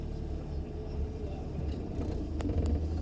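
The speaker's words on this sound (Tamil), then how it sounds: "Engine sound മാറിച്ചാ?" Car engine running during a driving lesson, in first gear with the clutch in use, a steady low rumble with faint background sound and no clear talk.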